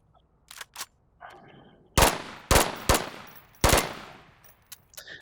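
A Volk rifle in a video game fires in short three-round bursts, several sharp clustered reports spaced about a second apart, fairly close and punchy, with a few lighter clicks between them.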